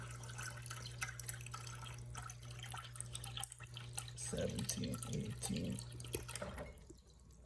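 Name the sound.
water being poured into a Guinness glass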